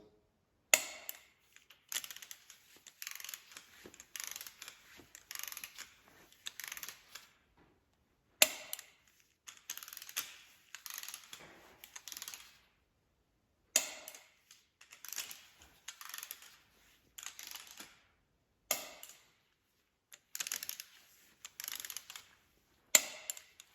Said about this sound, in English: now we're going to torque these little 3/8 bolts